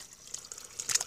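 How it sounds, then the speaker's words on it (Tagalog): Water runs from a natural spring at a rural house in Cavinti, Laguna, a soft close trickle with a few brighter splashes near the end, no talking. "Ito po yung ating bukal."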